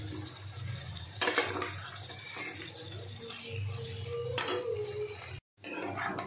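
Paneer is stirred into masala in a pan, giving soft scraping and clinking of a utensil against the pan with a couple of louder knocks, quiet and close, without talk.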